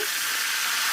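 Banana chips sizzle vigorously in hot oil, a brief, loud, continuous hiss of frying with close, dense crackle.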